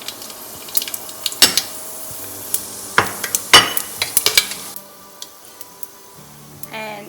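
Ingredients sizzle and crackle in hot oil in a pressure cooker during preparation of mutton masala, with loud metallic clanks of a utensil against the pot and stirring scrapes over a steady frying hiss.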